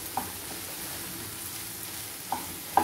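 Carrot frying in a pan for a carrot and egg scramble, a soft, steady sizzle close by with a few faint clicks of a utensil, no talk.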